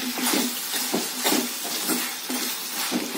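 Carrots and beans sauté in a pan for rava kichadi, giving a continuous sizzle broken by a regular rhythm of spatula scrapes and clinks against the metal, close and without talk.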